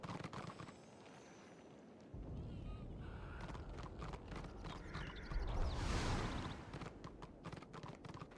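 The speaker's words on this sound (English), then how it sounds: "Oh, there's a tiny little horsey." A horse in the Warhammer Online video game clip-clops along in a steady, rhythmic hoof patter, fairly close, set against a busy game soundscape with occasional mechanical creaks.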